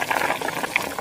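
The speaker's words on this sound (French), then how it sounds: "nous allons la laisser bouillir à feu doux" Cream and milk simmer gently in a pan over low heat, giving a steady, close bubbling and fizzing with soft pops, continuous through the short stretch with no talk.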